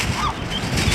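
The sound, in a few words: seagulls calling while begging for food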